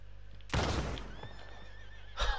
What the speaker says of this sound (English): Oh my God, it was a horse.